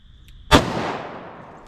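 A single loud .38 Special Underwood XTP round fires from a 3-inch Taurus 856 revolver, a sharp close blast that rings out and decays over about a second, with no talk.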